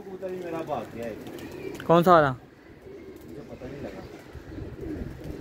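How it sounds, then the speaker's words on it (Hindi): Pet pigeons coo softly in the background while people talk nearby, with one louder, drawn-out call standing out briefly. "अभी दो तीन कबूतर जो हैं हमारे उनको हम खोलेंगे"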